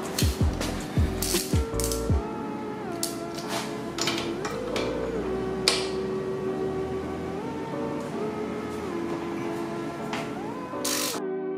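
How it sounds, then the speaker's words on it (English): A socket wrench fitted with a T45 Torx bit works on a 2014 KTM 690 Duke, giving repeated close ratcheting clicks and mechanical rattles that continue steadily throughout. "Got a T45 socket, or T45 Torx, going onto the socket wrench."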